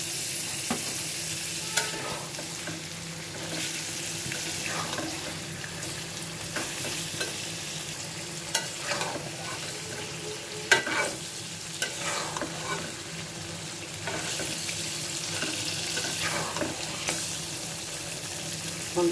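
Boal fish is stirred into a fried spice masala, with a steady sizzle of frying running throughout and occasional spoon scrapes and clinks in the pan. No talking.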